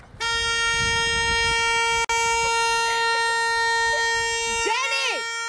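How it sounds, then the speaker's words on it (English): A car horn, pressed by a dog inside the car, blares in one long, steady honk for about four seconds, loud and close, cutting off briefly before sounding again; a voice cries out at the end. "my dog honks the horn at me when I take too long"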